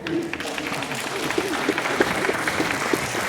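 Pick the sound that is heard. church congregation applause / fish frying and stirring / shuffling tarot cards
church congregation applause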